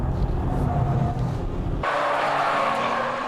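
A Porsche 996 Turbo and a Nissan GT-R brake hard side by side in a race, with loud engine roar and tire noise close up that shift abruptly partway through, the motor tone changing as speed drops.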